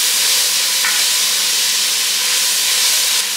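Steady, loud sizzling and hissing of onions frying in a pan, with faint scraping as they are stirred.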